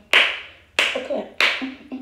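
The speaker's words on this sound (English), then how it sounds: "Give yourself a clap." Three sharp, close hand claps ring out, evenly spaced about two-thirds of a second apart, each followed by a short tail of room echo and faint trailing sounds.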